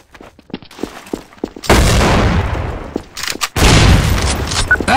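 Gunfire in Counter-Strike: Source, a few sharp single shots followed by two long, loud roaring bursts of sustained fire that fill the mix, with brief quieter gaps between.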